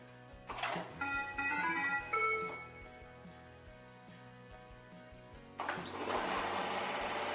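A Shark IQ self-emptying robot vacuum starts up with a short run of electronic tones, then its motor whirs on and keeps running with a steady, fairly quiet hum.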